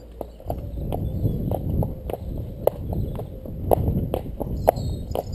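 Hooves thud and clop at a slow walking pace on a hard surface, close and fairly loud, with a steady low rumble beneath.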